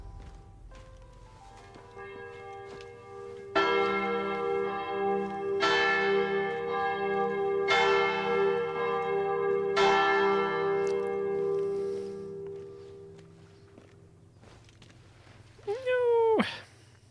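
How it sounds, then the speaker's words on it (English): A large church bell tolls in Sniper Elite: Resistance, four loud resonant strikes spaced about two seconds apart, each decaying into a long ringing hum, close and dominant, followed by a short vocal cry near the end. "we're getting pretty close to that loud-ass bell now"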